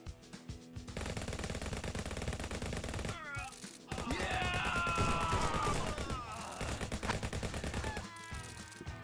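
Rapid bursts of .45 caliber revolver fire from the VR shooter Guns n Stories: Bulletproof, dense and loud through most of the stretch, with game music and effects mixed in and brief pauses between volleys.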